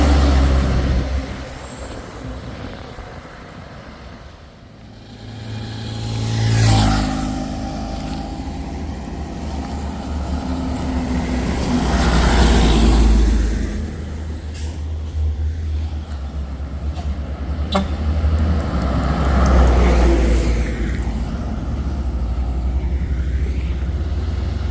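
Heavy trucks labour up the steep Bukit Kodok hill road, engines droning loud and close with swells as they pass, plus hiss and rumble of traffic; no speech.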